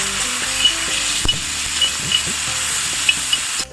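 Spice paste sizzling loudly and steadily in hot oil in a pan while being stirred, a dense continuous fry with occasional soft spoon scrapes, close and unbroken until a sudden stop.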